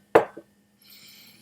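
A drop of Macaloney's Caledonian Killeigh Canadian Pot Still Whisky poured into a glass from a bottle with a composite cork: a sharp close plop and a smaller second plop, then a soft, hissy trickle.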